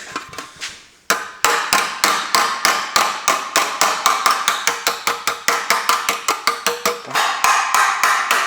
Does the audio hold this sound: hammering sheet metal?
yes